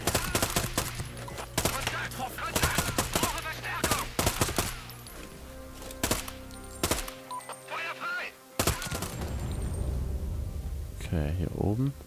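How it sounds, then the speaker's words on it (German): Bursts of machine gun fire crack out in the shooter game Sniper Ghost Warrior 3, rapid volleys separated by short pauses, loud and close, with someone talking over parts of it. "schieße jetzt einfach mal mit dem MG mit Bedacht auf die Typen"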